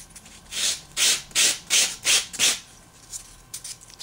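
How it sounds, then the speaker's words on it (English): Model-making material rubbed across sandpaper in about six quick back-and-forth strokes, each a bright scratchy swish with short gaps between, then a few lighter taps at the end. "You're just working your shape like that across the sandpaper."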